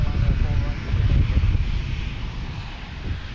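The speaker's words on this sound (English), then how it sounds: "Oh, we got a Southwest pulling in here." Southwest airliner taxiing in at Logan Airport, a steady loud low engine rumble and broadband roar throughout, with some wind noise.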